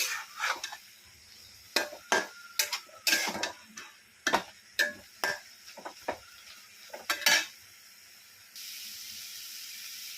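A spoon scraping and knocking in a pan as ground peanuts are mixed into a dill greens vegetable dish, sharp irregular clinks and scrapes close up, then a soft steady hiss.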